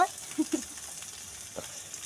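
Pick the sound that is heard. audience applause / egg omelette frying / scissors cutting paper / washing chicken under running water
egg omelette frying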